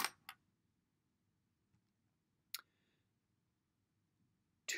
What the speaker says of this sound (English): I'm going to pull out my calculator and I'm going to type in that equation